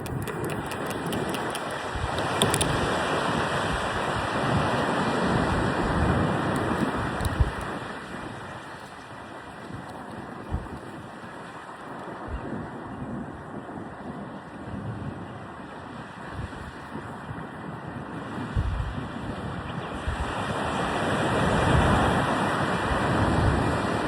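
Steady wind gusting across an open beach, a broad continuous roar with surf washing underneath, swelling slightly toward the end and close to the microphone, with no voices.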